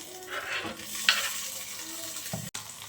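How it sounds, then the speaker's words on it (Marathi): Paneer being shallow-fried and stirred in oil in a kadhai, with a steady close sizzle and occasional scraping clinks of a spatula. "पनीर जे आहे ते या कढईमध्ये परतवून घेणार आहे"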